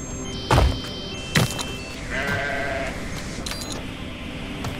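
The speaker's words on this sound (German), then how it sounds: "Was macht da ein Schaf da hinten?" A sheep in the Grow Home video game bleats a few times amid game sounds, with sharp thumps early on, a mechanical whir in the middle and steady background noise.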